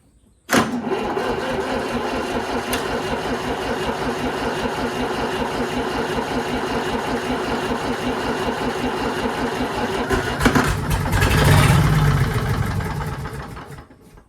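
A 1940s Allis Chalmers engine, started for the first time in many years, cranks loud and close with a steady rapid rhythmic churn for about ten seconds, then surges briefly and rumbles before dying down.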